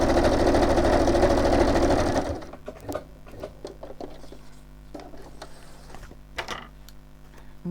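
A sewing machine stitches along a fabric pocket with a fast, loud, steady whirr for about two seconds, then stops, leaving faint clicks and handling noises.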